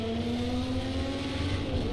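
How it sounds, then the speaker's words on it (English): A race car engine in the Project CARS 2 Le Mans racing game drones steadily at high revs, loud and continuous with a constant tonal whine and no talk over it. "This car sounds good."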